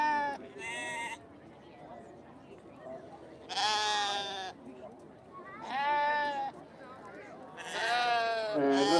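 Valais Blacknose sheep bleating at show judging at Balmoral Show, several loud, wavering bleats in separate bursts from nearby animals, with a quieter crowd murmur between them.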